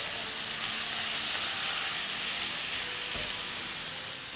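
Minced meat frying with onions in a pan, a dense, loud, continuous sizzle close by that holds steady throughout and eases slightly toward the end, with no talking.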